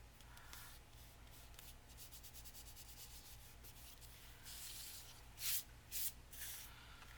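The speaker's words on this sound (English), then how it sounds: "Rub off any extra glue." Extra glue being rubbed off paper while crafting vintage book-page bellybands, a steady soft rubbing texture throughout with two brief louder swipes near the end.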